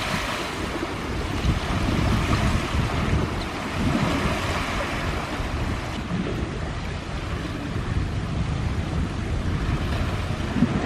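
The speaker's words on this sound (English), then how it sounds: "So I think it's safe to say that the ice waves are back." Ice waves breaking along a frozen shoreline in cold, windy conditions, a steady churning roar of slushy water mixed with heavy wind buffeting the microphone, continuous and close.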